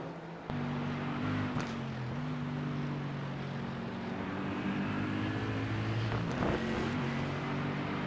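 A race car engine in a sim racing video game, GT Challenge at Mexico, drones steadily as the car brakes hard and shifts down through the gears, with pitch steps and a brief blip near the end.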